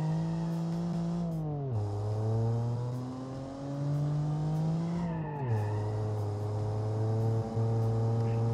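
A car engine drones steadily at moderate volume, its pitch dipping and rising as the car shifts gears, with no talking.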